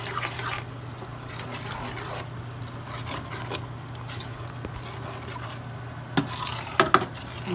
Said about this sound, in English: I'll mix it well first.